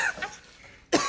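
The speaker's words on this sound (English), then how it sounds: "He's coughing. He's coughing." A person coughs after eating dust from a spicy Reaper chip, with a raspy breathy sound fading out and then one sudden loud cough bursting up close at the end.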